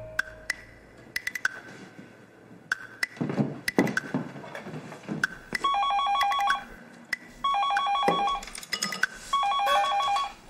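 A home telephone rings in a rural household in a Chinese TV drama, with repeated electronic ring bursts and short pauses after some clicks and knocking at the start.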